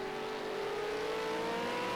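A V8 Supercars race car accelerates through a turn on a circuit, its engine a steady, rising drone that holds loud and even for the whole moment, with no commentary over it.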